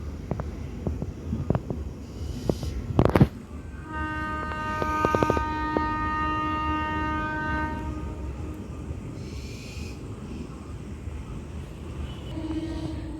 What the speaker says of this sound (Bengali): ট্রেনের আওয়াজটা প্রচণ্ড ডিস্টার্ব করছে